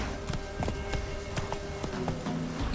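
Hooves of Geralt's horse Roach clip-clop in The Witcher 3: Wild Hunt on PS5, a steady walking rhythm of hoofbeats close by over a continuous game ambience, with no talking.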